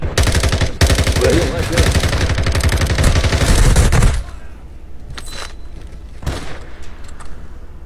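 Rapid automatic gunfire and shots crackle loudly through a video game shootout for about four seconds, then give way to quieter scattered game noise, with players talking over it.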